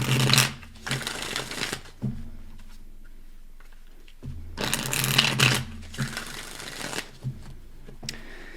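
A deck of tarot cards is shuffled by hand in quick riffling bursts, close and crisp, with quieter gaps between the flurries and no talking.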